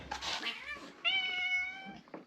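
Cats meow loudly and close by, a wavering yowl followed by a long drawn-out call with a strong pitched tone. There is no talking.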